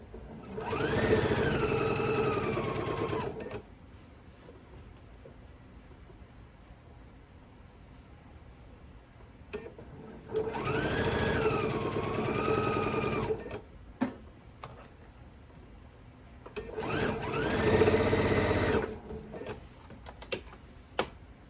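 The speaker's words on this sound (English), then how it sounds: "So let's sew these together. And I'm just going to chain piece them." A sewing machine chain-pieces fabric for a quilt block, running in three loud, steady stitching bursts of a few seconds each, separated by quieter pauses with small handling clicks and no talking.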